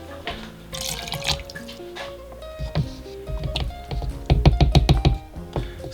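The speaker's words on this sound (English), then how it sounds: "Add some water." Water pours from a tap into a blender holding boiled cashews for vegan mozzarella, a splashing, trickling stream lasting a few seconds, with clattering kitchen noises and a brief burst of louder splashing near the end.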